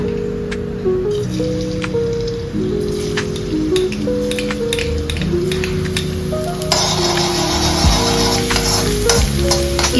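Garlic sizzles in hot oil in a pan over a high flame for Indo-Chinese paneer chilli, a steady crackle with scattered spatters and stirring taps beneath loud background music.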